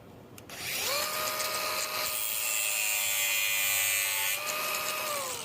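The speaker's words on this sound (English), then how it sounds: "I have opted to cut the bolt heads off" A power tool spins up and cuts through bolt heads on a Case 310 dozer, holding a loud, steady high whine for several seconds before winding down.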